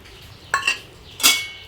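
Ground radhuni and cumin paste goes into a pot of cooking cucumber curry, heard as two close metallic clinks of a spoon against the pot about half a second apart.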